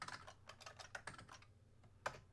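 Typing on a computer keyboard while coding, a rapid run of light clicking keystrokes that pauses briefly and ends with one firmer tap, close and fairly quiet.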